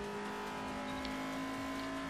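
An Audi race car in Forza Motorsport 4 drones with a steady, strained engine tone as it moves to overtake, a constant mid-level whine with no break over the whole short stretch.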